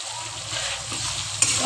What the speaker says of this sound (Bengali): ভালো করে কষিয়ে নেবো মশলাটাকে